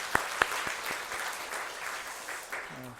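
A few scattered claps, then brief applause from a small church group, fairly faint and fading after a few seconds.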